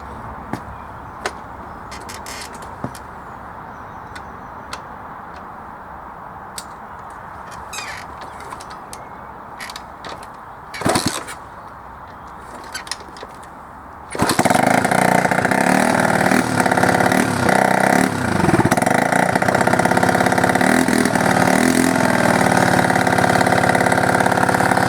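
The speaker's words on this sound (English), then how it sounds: "So this is the bike starting, so you will see how much smoke is coming out of it." A smoking pit bike with a worn piston: it stays quiet for a while with crows cawing, then the engine suddenly fires and settles into a loud, steady, close idle.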